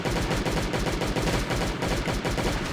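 Rapid, sustained automatic gunfire in the mobile survival game Last Day On Earth Survival, shots aimed at spitter zombies, a steady dense stream of close, loud reports with no pauses.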